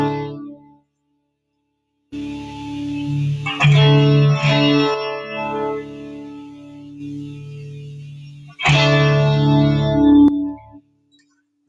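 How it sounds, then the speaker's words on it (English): Electric guitar played through a tri-chorus pedal with reverb on: shimmering, wavering chords ring out in two separate phrases with a pause between, the second stopping abruptly, with no other sound. "Now I have the tri-chorus. It's like a triple chorus,"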